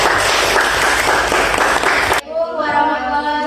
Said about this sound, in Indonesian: kasih aplaus untuk kelompok 3